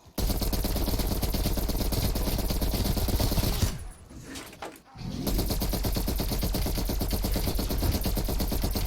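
Continuous rapid gunfire from Call of Duty Cold War Zombies, a fast automatic weapon firing loud and steady for several seconds, cutting out briefly before resuming just as relentlessly.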